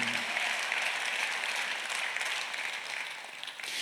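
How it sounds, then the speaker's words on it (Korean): A church congregation at a Sunday worship service claps together in sustained, even applause that stays at a steady level for a few seconds before easing slightly. "박수 한번 하세요."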